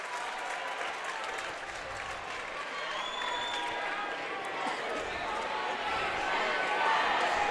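A crowd in the bleachers cheers at a boys' high school basketball game between Tippecanoe Valley and Southwood, a continuous roar of excitement with a commentator talking over it.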